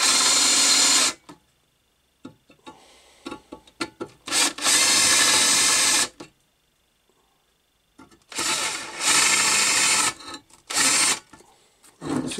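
A 10.5mm drill biting into steel just deep enough to mark it, several loud whining bursts of a few seconds each, separated by quiet pauses and small scraping sounds.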